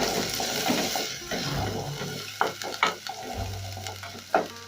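Onions cooking in a pan for an ndengu (green gram) curry, with a steady low sizzle and several sharp scraping and stirring clacks of a utensil against the pan in the second half.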